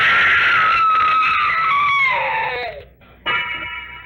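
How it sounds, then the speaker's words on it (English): A long, high scream from an old-time radio mystery drama rises loud, then wavers and falls away to a brief hush before a harsh shriek returns. "Wish I never heard that scream."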